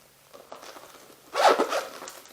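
A zipper pulled along an Ipsy cosmetic glam bag, one quick, close rasping zip after a few soft handling rustles.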